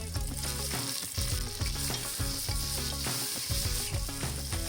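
Onion and tomato with mustard seeds and curry leaves fry in hot oil in a pressure cooker, a steady close sizzle with stirring, running continuously under background music.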